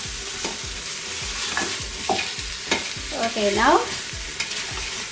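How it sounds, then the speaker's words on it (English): Goat paya sautéing in a pan with a steady sizzle and repeated scraping stirs of a spoon, while a voice talks briefly over the cooking. "this few minutes we're gonna saute it like this with the paya."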